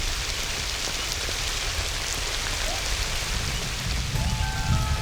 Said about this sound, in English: And the rains perform a miracle here at the edge of the desert.